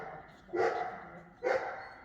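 A dog gives two sharp barks about a second apart during an agility weave-pole training session, fairly close and clear against a quiet background.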